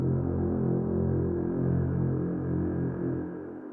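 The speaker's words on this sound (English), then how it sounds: "So what I ended up adding is adding this brass section, which plays a really low note on a sustain," An orchestral brass section holds a single sustained low note, a dense, steady drone that stays even throughout and fades slightly at the end, heard alone.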